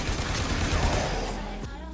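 Assault rifle fire from the video game Warframe, aimed at heavy gunner enemies: a dense, loud, continuous stream of rapid shots with overlapping effects, fading slightly near the end.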